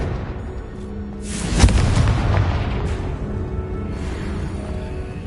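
A Confringo spell in a Harry Potter video game sets off a single heavy explosion, a loud close boom with a rumbling burst that fades slowly.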